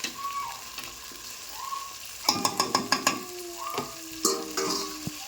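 Tomato and onion frying in a pan, a soft sizzle under repeated metallic clinks and scrapes of a spatula stirring against the pan, with a few short squeaks.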